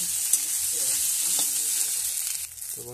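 Potatoes fry with spices in a pan, making a constant close sizzle with faint stirring scrapes and a slight dip near the end, no talking.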